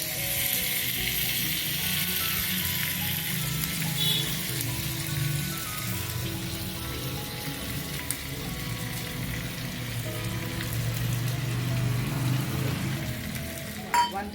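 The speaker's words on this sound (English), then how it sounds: "Once the butter is melted, add 1 teaspoon of kasuri methi to it." Kasuri methi sizzles in melted butter with a soft, steady frying hiss that holds evenly from start to finish.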